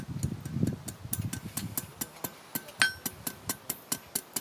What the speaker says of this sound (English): Hammer straight up and down, gently.